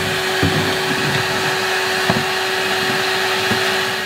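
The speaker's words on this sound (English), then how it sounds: "I've got this old beat up R2 unit here that should do the job for vacuuming." An old, beat-up vacuum cleaner cleaning a plant room floor, a loud steady droning whine up close, with a few faint knocks and bumps as it moves and no voices.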